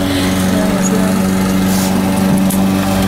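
A lawn mower cutting grass nearby at a home, its small engine droning loudly and steadily with a constant hum throughout.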